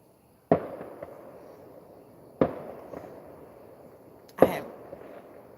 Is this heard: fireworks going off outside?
yes